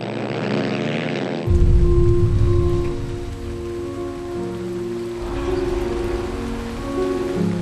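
Rain falling on an early-morning Dakar Rally bivouac, a dense steady patter mixed with a loud engine or propeller drone that swells midway, with no voices.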